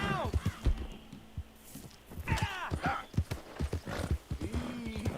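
Horse hooves clip-clopping in Red Dead Redemption 2, a steady close trotting rhythm with occasional whinnies and snorts, alone without talk.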